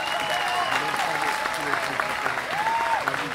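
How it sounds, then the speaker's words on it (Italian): Applause from a congregation at a Palm Sunday vigil in Domodossola, a dense, steady patter of many hands with a voice speaking over it. "Facciamo un applauso anche a lui."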